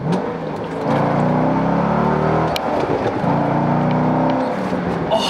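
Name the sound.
C6 Corvette with Corsa Sport exhaust revving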